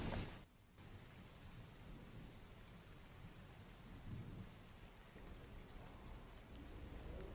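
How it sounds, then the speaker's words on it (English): Steady rain falls with rolling thunder: a dense, continuous wash of rainfall, low rumbles swelling beneath it, and a brief lull near the start before the downpour settles in evenly. "Is it raining? It is now raining."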